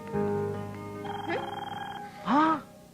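A phone rings in a Telugu comedy film scene with short electronic ringing tones and a rising chirp, close and fairly loud, while people talk.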